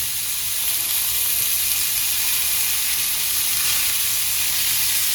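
Cooking oil sizzling hard as chicken sticks fry in a pan, a steady, loud, bright hiss running without pause from start to finish, nothing else over it.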